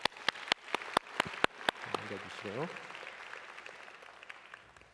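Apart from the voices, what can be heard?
church congregation applause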